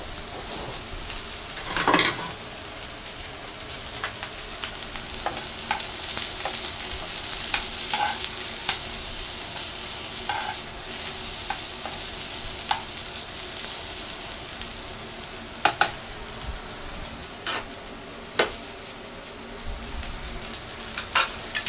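Chorizo chips fry slowly in a warm pan with a soft, steady sizzle, broken by a few faint clinks and stirring scrapes, and no one speaks.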